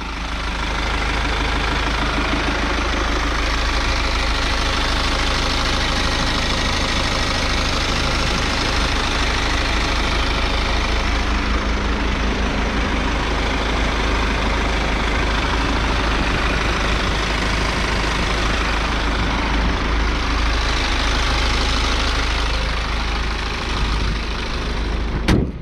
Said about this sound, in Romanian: Și cam asta e sunetul motorului.